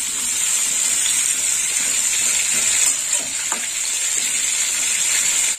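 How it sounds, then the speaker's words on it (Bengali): Sliced snake gourd and pointed gourd frying in hot oil in a Bengali kitchen give a loud, steady hiss and sizzle throughout, with a few faint stirring clicks, then it cuts off abruptly at the end. "চিচিঙ্গা পটলটা ভেজে নেব"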